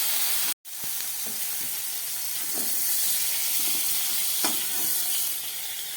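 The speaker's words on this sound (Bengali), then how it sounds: "চিংড়ি মাছটা ভাজা হয়ে গেছে, আমি এবারে এগুলোকে তুলে ফেলছি।" Prawns fry in oil in a pan with a continuous close sizzle and hiss and occasional crackles, broken by a brief gap near the start, with no talk.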